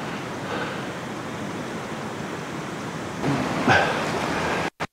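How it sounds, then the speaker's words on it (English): Steady broadband rush of a creek running high after rain in an Arizona canyon, close and continuous, with a slight swell near the end before cutting off. "the creek's flowing"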